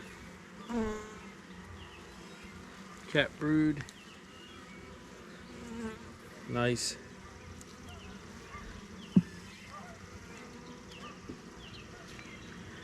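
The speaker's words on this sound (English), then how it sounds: "these are gentle bees" A soft, constant buzz of many honeybees swarming close by around an open hive in the evening, with a few quiet spoken words and occasional light bumps and clicks.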